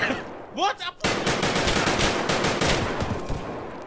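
Rapid automatic gunfire from a firearm in the video game Escape from Tarkov, a loud sustained burst of closely spaced shots after a moment of voice.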